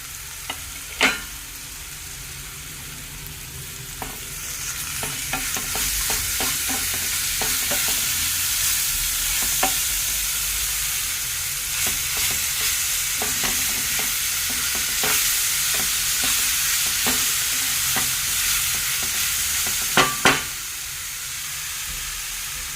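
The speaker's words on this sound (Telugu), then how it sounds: "ఇట్లా ఏగుతూ ఉండగా ఇది అల్లం ఎల్లిగడ్డ పచ్చిమిర్చి" Steady oily sizzling of ginger, garlic and green chillies frying in a pan, with occasional sharp clinks and scrapes of stirring throughout.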